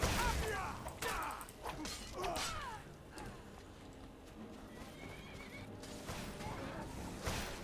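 Shadowmere, a horse in the game Skyrim, whinnies and neighs during a fight with vampires, with clip-clopping hooves, clattering combat effects and a faint voice underneath.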